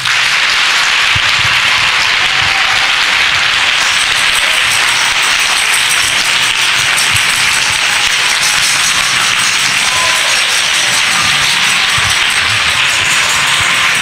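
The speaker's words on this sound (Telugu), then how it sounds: "యేసు ప్రభుకు లెక్కలేనంత చప్పట్లు కొట్టండి." Church congregation applauding Jesus during a worship service, a dense, steady wash of many hands clapping at once that holds evenly throughout, loud and close with no voices standing out.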